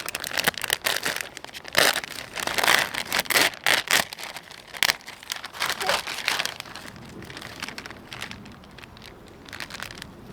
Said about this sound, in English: I'm using these old folders.